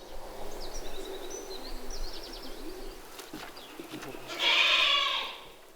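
Goats bleat on a goat farm in the French countryside where cheese is sold, with scattered calls over a steady outdoor background and one louder, nearer bleat toward the end.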